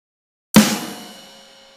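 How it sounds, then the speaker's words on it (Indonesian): A snare drum and a ride cymbal struck together on a real kit, one sharp, loud hit that rings out with a shimmering cymbal wash slowly fading, alone in the silence. "Kemudian ketuk secara bersamaan snare dan ride."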